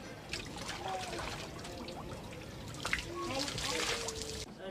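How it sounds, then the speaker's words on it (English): Water running from a hand water pump while women bathe beneath it fully clothed, a steady splashing trickle and splatter continuing throughout, with faint voices and background activity mixed in. "The women bathe under a water pump with their clothes on."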